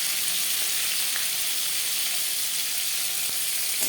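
Marinated fish frying crisp in hot oil in a pan, a steady, dense sizzle that holds evenly throughout with faint crackles, close up and alone.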